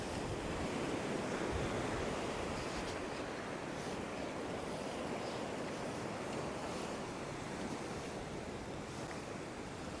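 Ocean waves breaking on a rock ledge at a Sydney rock-fishing spot, a loud, steady wash of surf with wind buffeting the microphone and no pause across the whole stretch.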